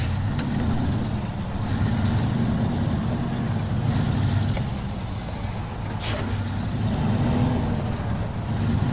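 A heavy truck in the SnowRunner video game rumbles with a steady low engine drone as it maneuvers between trailers, with a sharp hiss of air release partway through.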